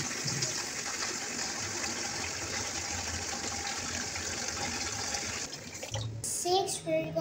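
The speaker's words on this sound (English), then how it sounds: "We're gonna fill the basin with clean water." Clean water running from a tap into a basin, a steady gushing stream throughout, with someone talking over it near the end.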